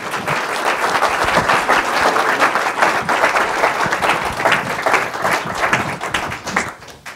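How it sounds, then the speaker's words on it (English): Audience at a city council meeting in Chino breaks into sustained applause, dense clapping from many hands at full volume that continues steadily for several seconds before thinning out near the end. "Let's give a round of applause."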